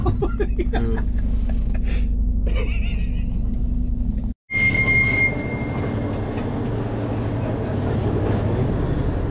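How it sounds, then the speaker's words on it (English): Rail cars at the Moldova-Romania border having their bogies changed: heavy rumbling and clanking, a sharp metallic squeal, a brief silence, then continued rolling rumble with faint voices in the background. "they are now changing the chassis, because the railway in Romania is different from the railway in Moldova"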